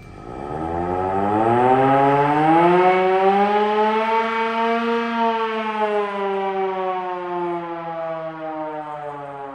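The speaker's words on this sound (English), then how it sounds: "That's the siren out of the old Leyland factory for when there's an air raid." An old air raid siren taken from the Leyland factory is cranked up: a loud, close wail rises in pitch over the first few seconds, holds, then slowly sags as it winds down, with no talk over it.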